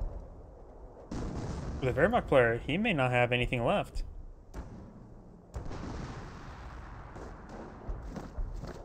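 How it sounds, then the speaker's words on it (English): Gunfire and artillery in a WWII strategy video game, with bursts of shots and booms clustered early on, then scattered distant pops, all under a commentator talking over the action. "Here's some gunfire down here."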